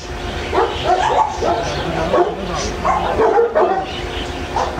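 A dog greets its returning owner with repeated barks and yips mixed with whimpering, close and lively, while people talk over it.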